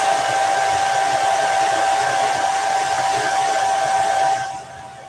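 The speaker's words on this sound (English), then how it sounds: "I'm going to dry that real quick just because I'll inevitably put my fingers in it." A hair dryer blows on chalk paste over a craft door round, a loud, steady whirring hiss with a whining tone that drops off sharply near the end as it switches off.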